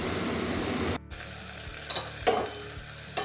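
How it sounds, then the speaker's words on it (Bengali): Bitter gourd frying with salt in a covered pan gives a steady, close sizzle that dips briefly near the start, then returns with a few sharper crackles and stirring scrapes. "নুন দিয়ে ঢাকা দিয়ে ভাজা করে নেবো"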